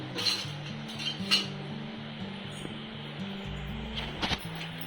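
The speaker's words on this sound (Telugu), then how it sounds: "ఇంకా స్టవ్ ఆన్ చేసుకొని రేక్ పెట్టుకుంటున్నాను" An iron tawa griddle set down on a stove, with a few metallic clinks and clunks near the start and end, over a steady low burner hum, close by and moderately loud.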